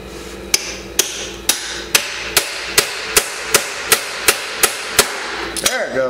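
A hammer strikes a stuck socket on a small Chinese-brand ATV about a dozen times at a steady, evenly spaced rhythm. The metallic blows are loud and close, ending with a brief shifting clatter.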